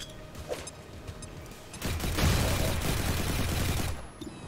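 Sustained burst of suppressing gunfire in XCOM 2, a dense rattling fusillade that rises after a quieter stretch with faint clicks and lasts about two seconds before cutting off, loud and close.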